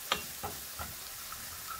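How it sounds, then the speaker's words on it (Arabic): Garlic and other ingredients stirred in a small frying pan over medium heat, a faint steady sizzle with a few soft scraping clicks of the spoon at the start, quiet and close. "بمقلاية صغيرة على نار وسط بقلب مكونات القلية"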